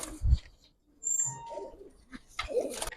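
Giribaz pigeons, including a female, cooing nearby in a few short, scattered bursts separated by quiet gaps.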